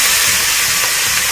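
Curry paste stir-frying in a hot wok with no oil gives a loud, dense, continuous hiss that fills the whole brief moment without a break.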